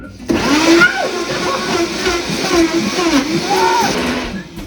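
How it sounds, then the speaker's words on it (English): An electric blender whirs loudly after a sudden start, blending acai, its motor pitch wavering as it churns, with voices talking over it. "off to the blender we go"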